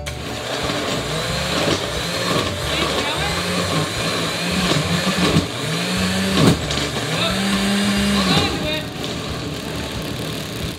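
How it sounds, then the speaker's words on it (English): An old blender grinds and whirs loudly, its motor pitch rising and falling in surges as it chops, with no talking over it. "This is a very old blender."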